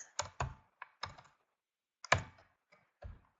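Close computer keyboard typing in a quiet room: a few short bursts of clicky keystrokes separated by pauses, sparse and uneven rather than a steady run.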